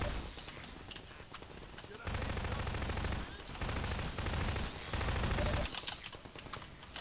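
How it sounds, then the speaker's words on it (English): Automatic turret in Half-Life 2 Episode Two firing in dense, sustained bursts, loud rapid gunfire dominating several seconds with brief gaps between volleys. "I think that turret will take care of them nicely."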